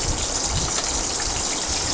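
Potatoes and papaya drop into hot white oil in a pan and fry with a loud, steady, rushing sizzle, close and continuous with no pauses.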